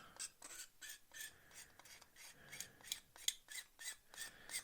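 A blade scrapes paint off a plastic model aircraft wing spar in quick, rhythmic rasping strokes, about ten short scratches in a row, close and quiet with no talking.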